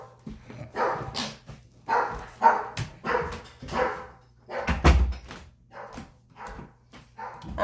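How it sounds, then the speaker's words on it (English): A house dog barks in repeated bursts across several seconds, fairly close and loud indoors, with a door bang and a short whimper in between. "My dog is probably going to bark"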